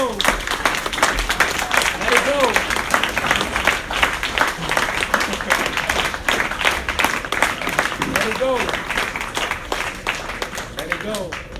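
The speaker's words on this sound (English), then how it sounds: "can we give these group of individuals a round of applause again, please?" An audience applauds with sustained, dense clapping that holds steady the whole time, while a voice talks over it.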